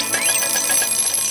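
An alarm clock rings in a bedroom, a steady shrill repeating electronic tone that is loud and close and continues unbroken.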